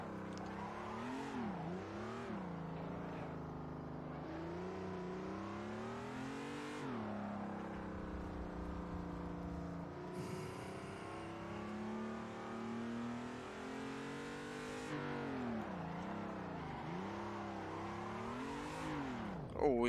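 A BMW E30 M3 engine in a racing video game revs hard while the car drifts, its pitch swooping up and down repeatedly, with a brief tire screech partway through and talk over it.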